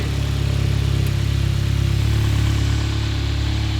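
An MK7 GTI engine swapped into an old Jetta idles steadily, a loud, even, low throbbing hum with a fine rapid pulse, no voices over it.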